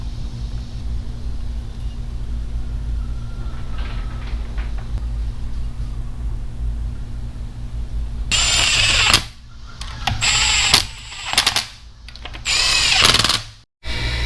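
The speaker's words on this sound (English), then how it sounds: "I just drilled these out with a 3/4 drill bit" A 3/4 drill bit bores out bushings on a Farmall M tractor under restoration. A low hum comes first, then loud, close whining drill bursts start and stop several times near the end.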